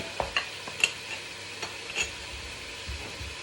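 A utensil stirs Caribbean Saturday soup ingredients in a pot, a few close scraping clinks and soft bumps spaced irregularly over a low background sizzle, no voices.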